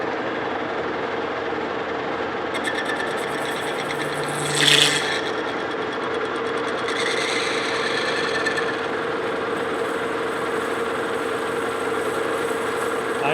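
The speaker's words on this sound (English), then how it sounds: "we're going to part it off right there" A lathe parting off a steam engine governor spool valve stem, a continuous grinding, rasping cut over a steady motor hum, with a brief brighter squeal midway and no voices.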